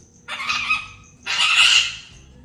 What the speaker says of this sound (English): this is a happy screech